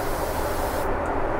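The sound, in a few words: Evian water facial refreshing spray being sprayed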